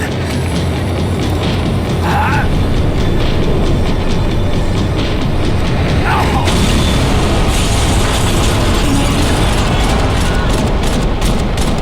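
A tram in the Max Payne 3 video game slows down with a loud, continuous, grinding rail rumble and clanking mechanical rattles, close and dense throughout, with a couple of brief higher squeals.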